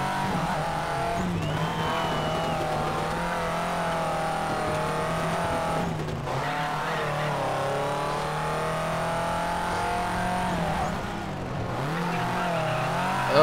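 Subaru rally car in the Colin McRae: DiRT racing game, its engine a loud, continuous drone that rises and falls in pitch as it revs, with brief tire skids mixed in. No talking.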